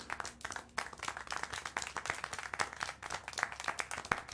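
Steady applause from a video game crowd, dense overlapping claps with sharper individual hits standing out, continuous and fairly loud throughout.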